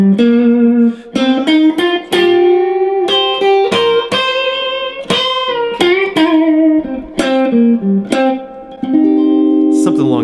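Electric guitar with distortion plays unison bends in a minor pentatonic scale at a slow tempo: sustained, wavering bent notes in short loud phrases with brief gaps, played alone.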